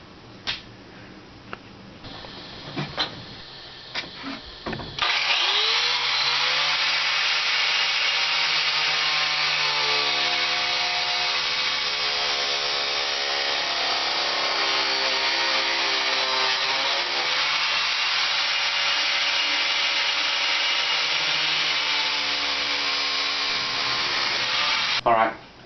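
A power saw cuts pipes into 36-inch lengths, making a sustained, loud, whining cut that runs for about twenty seconds after some brief handling knocks and clatter.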